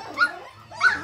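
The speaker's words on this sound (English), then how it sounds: "golden doodle puppies" Goldendoodle puppies in a small play area let out two high, short whimpering yelps close by, with a pause between them.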